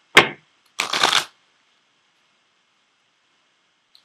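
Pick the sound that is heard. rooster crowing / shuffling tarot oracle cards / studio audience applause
shuffling tarot oracle cards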